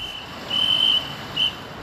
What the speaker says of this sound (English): The city's police directed traffic with handheld torches and whistles.